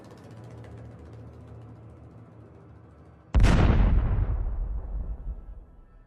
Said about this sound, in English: HIMARS missiles destroyed enemy equipment and almost all enemy manpower.